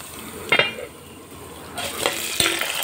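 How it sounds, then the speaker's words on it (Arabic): Vermicelli fries in ghee and oil in a pot while being stirred. A soft sizzle runs under the scrapes and clinks of the spoon against the pan, with a few sharper knocks. "حطينا حته سمنه على حبه زيت حلوين، حمر الشعريه"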